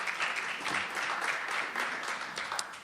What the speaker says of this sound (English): we do appreciate applause